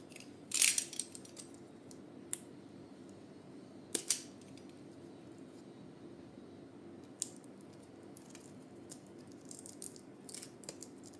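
Packaging for a DJI Osmo Action 4 camera being unwrapped by hand, with two loud crinkling rips followed by scattered soft rustles, taps and small clicks in a quiet room.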